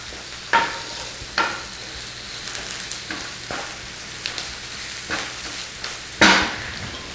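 Fine greens stirred in a hot pan, a steady low sizzle broken by several sharp scraping stirs at irregular intervals, close and with no talking.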